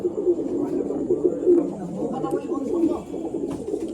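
Pet pigeons, kept as single birds, coo steadily in a loft, overlapping low rolling calls running throughout at close range.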